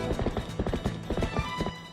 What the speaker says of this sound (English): Suddenly, Link's horse appears.